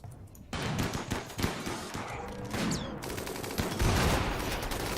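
Gunfire in the colony game RimWorld, a busy barrage of repeated sharp shots and impacts with brief pauses, loud and close throughout, without talking.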